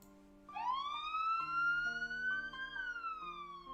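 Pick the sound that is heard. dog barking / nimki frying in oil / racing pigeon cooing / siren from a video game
siren from a video game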